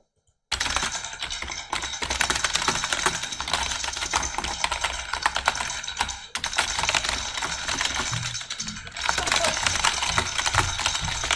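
Rapid, continuous typing on a computer keyboard, dense clattering keystrokes running steadily for about eleven seconds with only brief pauses, close and fairly loud.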